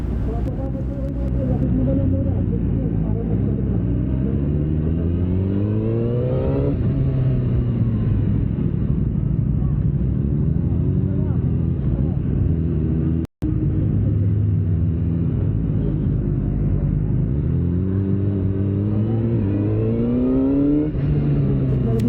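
A CF Moto 500 SR Voom inline-four motorcycle on the road, its engine a loud, continuous rumble that rises and falls through several gear changes, with a brief dropout midway and steady wind noise.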